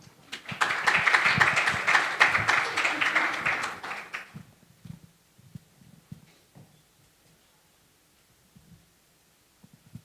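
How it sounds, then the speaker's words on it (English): An audience at the Connecting EU 2023 conference gives a steady burst of applause lasting about four seconds, then it stops abruptly and only faint low thumps and near-silence follow. "Please give her an applause before she takes the floor."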